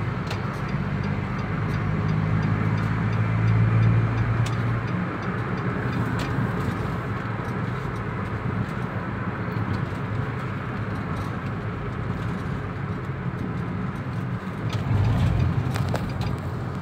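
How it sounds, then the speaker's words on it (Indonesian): A 2014 Datsun car accelerating along a road, a steady, fairly loud engine and road roar that swells at the start and again near the end, with no talk over it. "Coba injek gasnya terus dalam dikit."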